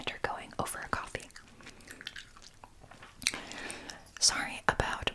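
A cat crunches dry kibble close by, giving steady crisp chewing under soft whispered talk, with a few sharper bites.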